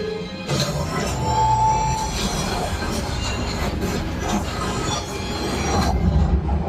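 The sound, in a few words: train sound effect on theme park ride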